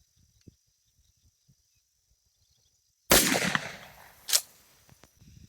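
A 12 gauge shotgun fires one loud, sharp blast of Federal FlightControl low-recoil 9-pellet buckshot at a 5-yard target, followed by a trailing rumble and a second crack about a second later. Quiet surroundings come before the shot.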